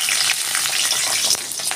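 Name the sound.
green and ripe chillies frying in hot oil in a wok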